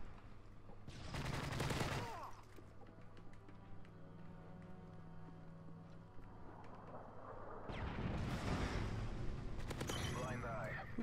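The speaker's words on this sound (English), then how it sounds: "Who the hell is shooting me across the damn map?" Gunfire in the multiplayer video game Call of Duty: Modern Warfare 3, with dense bursts of automatic shots near the start and again toward the end, over a steady game soundscape.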